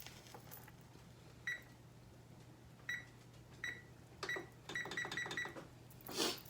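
A kitchen timer being set in a kitchen beside a Hamilton Beach sandwich toaster gives a series of short, sharp electronic beeps, single at first and then in a quick run of several, over a low steady hum.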